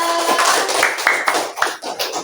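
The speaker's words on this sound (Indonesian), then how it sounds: "Karena tepuk tangan untuk Asila" A classroom of children clapping together in a loose, quick rhythm, close and loud, with a few taps and brief voices mixed in.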